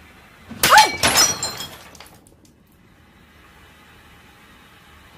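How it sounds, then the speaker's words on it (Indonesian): A mirror abruptly shatters in CCTV footage, a loud sudden burst of breaking glass with a sharp tinkling spray that fades over about a second into faint room hiss. "Cermin itu tiba-tiba pecah dengan sendirinya, seperti ada sesuatu yang memecahkannya dari dalam."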